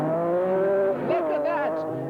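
Peugeot and Audi race cars at Mondello Park, running locked together after touching, their engines loud and close with a brief squeal of tyres as the two cars jostle.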